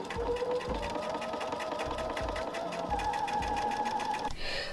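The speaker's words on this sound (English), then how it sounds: "All right, let's get this top stitching done." A sewing machine top-stitches a shirt with a steady, fast mechanical whir and rhythmic needle clatter, running continuously and close up before stopping abruptly near the end.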